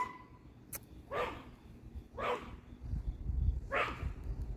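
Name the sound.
dog barking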